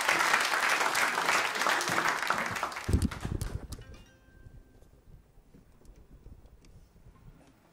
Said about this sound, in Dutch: Geef ze een applaus, dames en heren.